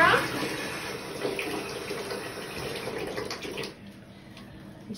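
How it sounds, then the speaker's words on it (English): Water running steadily from a tap into a bathtub or sink during a pet wash, a broad close hiss that cuts off sharply near the end, leaving quiet. "I'm gonna shut the water off."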